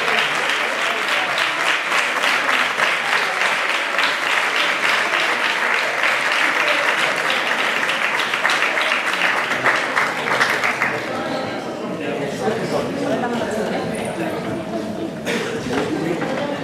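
A crowd at the presentation of the Laredo 2024 Battle of Flowers applauds loudly and steadily for about eleven seconds, then the clapping thins out, with a voice talking over it.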